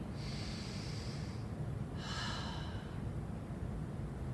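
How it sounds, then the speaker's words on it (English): A single slow, deep inhalation through the nose during a guided breathing exercise in a balance class, breathy and close, followed by a softer second breath sound over steady background noise. "Let's take 3 deep breaths together."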